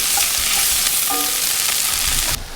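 Peppers, onions, garlic and carrots sizzle and fry in a pan as they caramelize, a steady close hiss with light stirring scrapes throughout, cutting off abruptly near the end.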